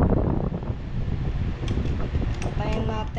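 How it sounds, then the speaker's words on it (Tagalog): A wall air conditioner runs with a steady broadband whoosh of fan and airflow, fairly loud and continuous throughout, with faint tonal hums and a few brief higher clicks near the end. "Papatayin natin yung aircon."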